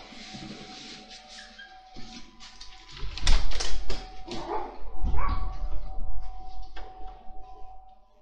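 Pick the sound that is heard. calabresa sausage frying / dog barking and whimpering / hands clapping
dog barking and whimpering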